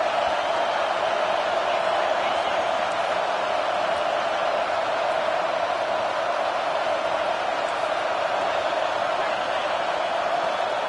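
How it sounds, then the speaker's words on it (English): Steady, dense roar of a stadium crowd in a college football video game, a constant broadband wash at full loudness with no breaks, no voices distinguishable above it. "Listen to this crowd just shaking the girders of this place"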